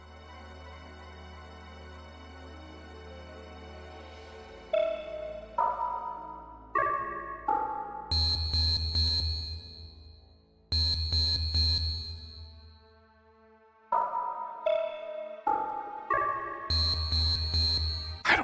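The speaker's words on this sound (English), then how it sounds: "Activate the audio signal with the up, down, left, right directional buttons." Xenogears password console tones play as a series of pitched electronic beeps, each with rich harmonics. Single notes step up and down in short melodic runs, broken by louder bright bursts with a deep low hum, alone with no talk.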